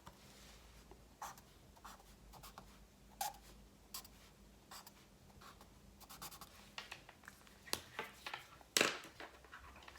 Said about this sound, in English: I take my felt tip pen, okay, I make some lines